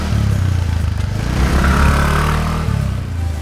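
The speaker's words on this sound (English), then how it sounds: "you are being constantly egged on by this aggressive sounding exhaust" A 125cc scooter's aggressive-sounding exhaust drones steadily at close range while accelerating, pitch climbing briefly as it revs up and then settling back.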